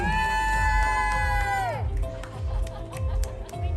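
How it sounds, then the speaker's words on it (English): A crowd at a golf convention cheers and whoops as a loud brass-like musical fanfare plays, and the cheering carries on in busy bursts after the music cuts off. "Let's give a GolfCon round of applause for Luigi Magliari!"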